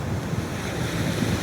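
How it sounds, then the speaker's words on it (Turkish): Sea waves roll onto the sandy beach at Karasu on the Black Sea coast, a steady, close wash of surf mixed with rumbling wind noise on the microphone, with no voices. "Denizde dalga varsa kumu var, sesi var."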